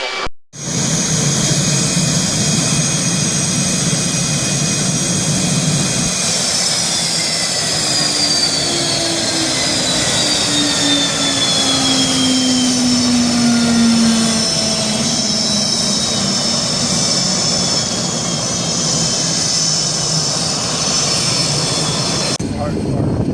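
An F-18 Hornet jet of the Blue Angels gives a loud, continuous engine roar that lasts the whole time, with its pitch slowly sliding as the aircraft moves.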